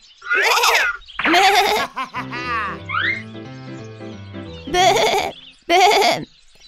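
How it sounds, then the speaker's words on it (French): Cartoon sheep bleats loudly in a French-narrated gingerbread-man fairy tale, two wavering bleats at the start and two more near the end, with a bouncy musical phrase in between. "rencontra un mouton qui broutait"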